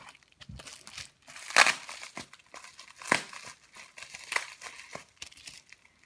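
Packaging is unwrapped nearby, with irregular bursts of crinkling and rustling plastic or paper, some louder crunches among quieter rustles.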